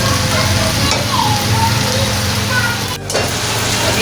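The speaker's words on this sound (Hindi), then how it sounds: "तेज़ आंच पे भुनाई हो रही है।" Meat, potato and cauliflower fry over a high flame in a pot, a steady dense sizzle with faint stirring ticks running through the whole stretch and a brief dip near the end.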